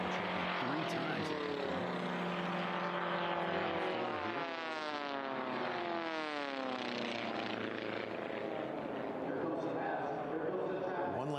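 Racing airplane at the National Championship Air Races passing by, a loud propeller engine drone that sweeps down in pitch as it flies past, heard under a commentator's voice.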